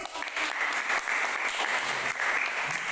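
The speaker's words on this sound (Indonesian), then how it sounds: "boleh tepuk tangan dulu" Students applauding in a classroom after a calculus microteaching answer, a dense, steady wash of many hands clapping at once, alone with no talk.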